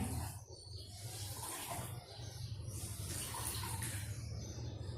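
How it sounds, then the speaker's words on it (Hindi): Water splashes and drips as a naturopathy wrap cloth is lifted out of water and wrung thoroughly, a continuous close wet trickling and sloshing with no voices. "जब ये अच्छे से भीग जाए इसको पानी से निकाल के पूरा निचोड़ना है ताकि पानी टपके नहीं।"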